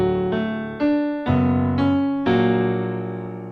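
Piano chords struck one after another in a slow passage, each ringing and decaying before the next, with deep bass notes underneath; no voices.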